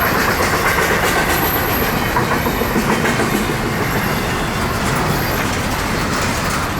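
A loud, steady rumble and rattle of a very long FEC freight train rolling past close by, with continuous clickety-clack from the rail cars and no pauses.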